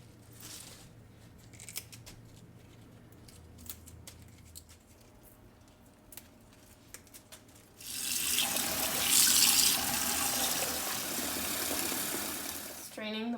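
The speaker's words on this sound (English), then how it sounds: "I'm going to start by giving the parsley a nice bath and clean them." Parsley rinsed under running tap water in a kitchen sink, a steady loud hiss of flowing water taking over partway through after a quieter stretch of kitchen background.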